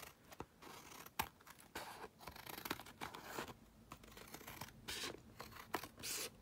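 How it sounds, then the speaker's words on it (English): Scissors trimming paper scraps for a collage: faint close snips and paper rustles in an uneven rhythm, alone and quiet. "So just trim it along and then just trim it off on the edge."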